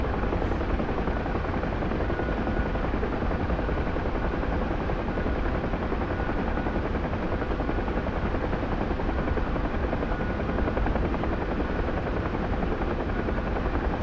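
Huey helicopter in the DCS World flight sim cruising fast at about 140 knots, a loud, dense, continuous rotor and turbine roar that stays steady and close the whole time, with no voices.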